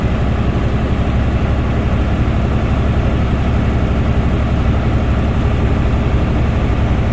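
A truck's diesel engine runs steadily during an air brake pre-trip test, a loud, constant low rumble and drone with no breaks and no talking.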